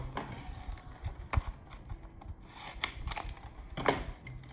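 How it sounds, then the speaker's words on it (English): A circle cutter scores and slices through a red paper packet in short rasping, scraping strokes, close and fairly quiet, with a few sharper clicks and taps between passes. "I'm going to cheat and use my circle cutter"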